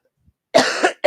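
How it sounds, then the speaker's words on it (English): One person coughs up close, a short, loud burst followed by a second cough after a brief gap, in an otherwise quiet room. "coughing."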